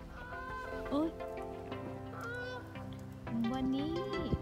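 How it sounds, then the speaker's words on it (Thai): Wild geese honk repeatedly at a distance, rising nasal calls scattered over a few seconds with faint background voices. "สำหรับห่านที่เพื่อนๆเห็นบินผ่านหมู่บ้านแอนคือห่านธรรมชาตินะคะ"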